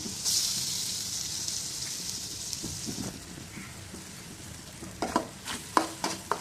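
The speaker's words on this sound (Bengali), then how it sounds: "এখন মধ্যে ব্লেন্ড করে রাখা কাঁচামরিচ পেঁয়াজ আর রসুন বাটা দিয়ে দিলাম" Green chili, onion and garlic paste frying in a pan for a prawn and eggplant curry, a steady close sizzle that fades midway, followed by several sharp scraping stirs and spoon knocks near the end.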